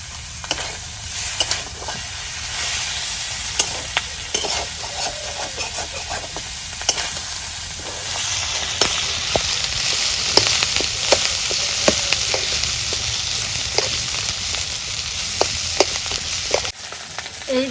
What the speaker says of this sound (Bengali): এই দেখো অনেক সুন্দর করে আমি মাছের মাথাটা ভাইজা নিলাম